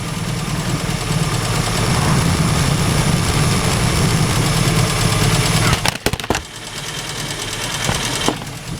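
A car engine idles during an oil change, a loud, close, steady rumble that runs on, then dips and clatters briefly partway through before settling back to a lower hum.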